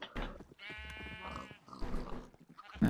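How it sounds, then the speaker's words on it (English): Sheep bleating in the Minecraft video game, several wavering bleats in quick succession, loud and close, alone with no talk. "No, no, no, get back in there, sheep."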